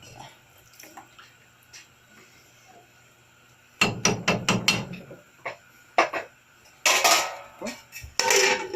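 Kuska rice being stirred in a cooking pot, with a burst of clanks and metal scraping after a quiet stretch, then louder splashy stirring and clattering against the pot, close by.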